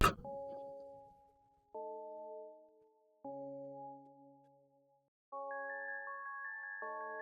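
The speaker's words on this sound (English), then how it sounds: "I had this little bell synth going on during the bridge." Bell-preset synth from a Twin 3 soft synth, used in a metal song's bridge, plays sustained chiming chords that enter in separate struck stages and ring out cleanly, with a higher bell line added near the end.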